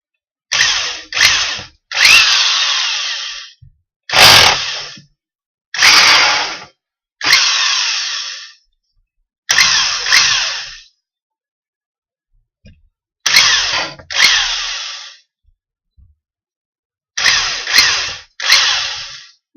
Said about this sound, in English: Now we can drill the holes.